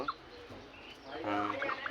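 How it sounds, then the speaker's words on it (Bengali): A turkey hen gives short, rough clucking calls close by, swelling into a louder burst midway through, with quiet background noise. "যেটা টার্কি মুরগি আছে এটা অনেক 400 টাকাতে কিনছিল।"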